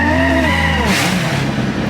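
The tires of a modified Audi RS3 squeal loudly and continuously through a brief burnout to clean them before a drag run. A heavy engine roar sits close underneath.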